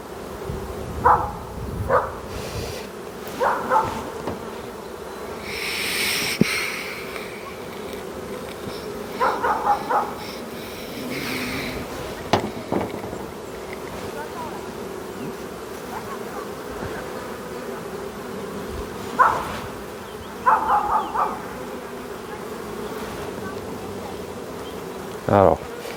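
Honeybees buzz steadily around a drone frame pulled from an open hive, a continuous close insect drone with louder passes as bees fly near, plus a few brief bursts of other sounds.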